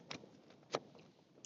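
Crunchy, not fully rehydrated spicy chilli with meat bits and kidney beans is chewed at a wild camp in a tent, giving a few sharp, close bites and crunches amid quiet chewing.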